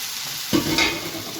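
Cleaned, rinsed shrimp drop into a hot frying pan for a seafood pasta and set off a sudden burst of sizzling that keeps crackling steadily.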